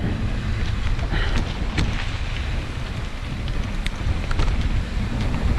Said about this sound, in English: You can hear another waterfall somewhere. It's not wind. Well, it's not a water, it's more of a creek.